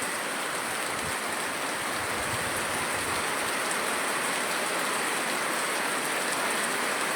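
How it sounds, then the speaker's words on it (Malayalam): Heavy summer rain pours over Neyyattinkara in southern Kerala with some wind, a loud, dense, unbroken hiss of water that holds steady from start to finish with no voices. "നല്ല മഴ പെയ്യുന്നുണ്ട്, വേനൽ മഴ പെയ്യുന്നുണ്ടെന്ന് തന്നെ പറയാം"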